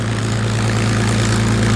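A Curtiss P-40 Kittyhawk/Warhawk fighter's piston engine gives a loud, steady, low droning hum with a strong even tone, held without a break and with no talking.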